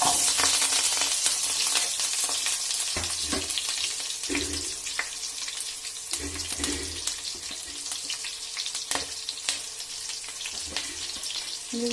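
Onion, garlic, curry leaves and green chillies sizzle in hot tempering oil for a fish curry, a steady bright crackle close up with occasional stirring knocks and clinks, no talking.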